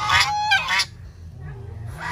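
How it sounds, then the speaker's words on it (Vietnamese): Geese honking loudly and close by in a rural Vietnamese village setting, a burst of several harsh overlapping honks followed by quieter calls and another honk at the end. "Gặp mấy bạn ngỗng quậy quá chừng luôn nè"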